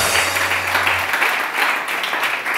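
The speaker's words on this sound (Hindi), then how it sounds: "सबसे पहले टाइगर के लिए बहुत सारी तालियां" Studio audience applause on a Pakistani morning TV show, a steady, dense wash of clapping that fills the whole stretch at even loudness, with a low tonal hum under the start.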